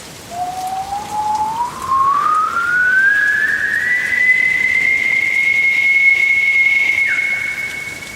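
A single long whistle glides slowly upward and then holds a steady high pitch over a constant wash of rain and storm noise. It sounds like a storytelling sound effect, loud and alone with no talk.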